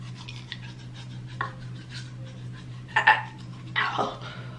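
A toothbrush scrubbing the tongue at close range: a few short, rough rasping strokes, loudest near the end, over a steady low bathroom hum.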